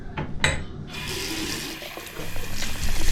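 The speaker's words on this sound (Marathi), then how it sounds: "या नळाचं पाणी पितात." Water runs from a public tap in Australia, a steady broadband rush of flow that begins after a couple of short splashy bursts and continues nearby to the end, growing slightly louder.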